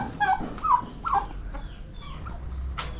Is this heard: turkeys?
yes